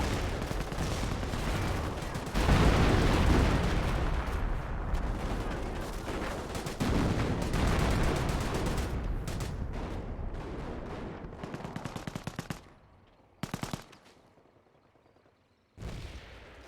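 Flak 88 artillery and gunfire in a WWII strategy video game battle, dense crackling bursts of shots and booms for several seconds, thinning out to sporadic cracks and short volleys near the end.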